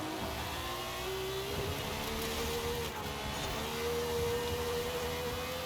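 Racing car engine in Forza Horizon 5 pulling hard out of a corner, a steady loud mid-pitched drone with a rising revving tone throughout, alone without voices.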